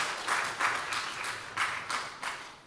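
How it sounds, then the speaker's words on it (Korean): A congregation applauds during a Korean church worship service after a child's baptism, with uneven waves of clapping that swell and ease at a moderate level and fade out toward the end. "우리 크게 다시 한번 박수해 주시기 바랍니다"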